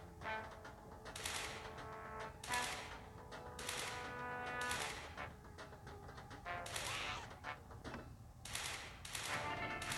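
Video game gunfire comes in short repeated bursts of shots at a fairly regular rhythm, heard at a low, distant-sounding level throughout.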